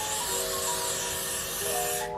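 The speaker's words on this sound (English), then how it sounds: "Take your freeze spray and we're gonna go section by section" A continuous hiss from an aerosol can of hair freeze spray spraying steadily for about two seconds, close and fairly loud, with no talking.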